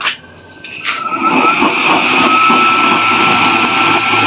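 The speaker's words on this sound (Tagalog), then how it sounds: "Tapos try natin i-open yung blower." The blower motor of a homemade used-oil stove burner spins up and settles into a loud, steady roaring hum with a faint whine, running continuously after a few brief knocks at the start.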